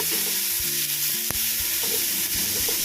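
Ginger garlic paste frying in a pan until lightly browned for chicken biryani, a steady sizzle with stirring scrapes and a sharp clink, close and continuous with no talking.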